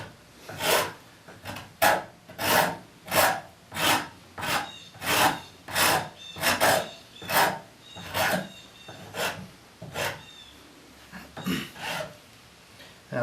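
A Nicholson rasp files a wooden chair handhold in steady back-and-forth strokes, about a dozen rough, scratchy rasps at an even rhythm, close and clear with no talking over them.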